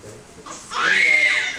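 A baby screams and cries close by, starting with fussing and then breaking into a loud, sustained high-pitched wail.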